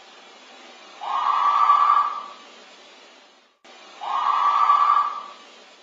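A chilling scream rings out in the night, picked up by a home security camera from somewhere off screen: two long, loud, sustained shrieks of about a second each, separated by a short pause.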